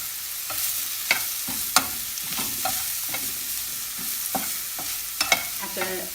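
Onions and spices being stirred while frying in a pan, an even sizzle broken by repeated distinct scrapes and knocks of a spoon, close and clear, with no talking.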